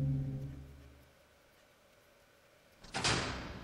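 A door opens in the Resident Evil Zero video game, a single loud whooshing, scraping burst near the end, following low droning game ambience.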